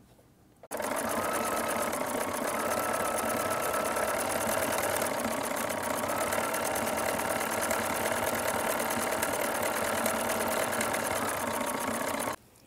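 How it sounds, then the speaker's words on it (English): A sewing machine runs steadily and loudly for about twelve seconds, stitching built-in decorative stitches with Mettler Poly Sheen thread on an apron, a fast even whirring rattle that starts and stops abruptly with no talk. "we can also use this thread for built-in stitches on our sewing machine"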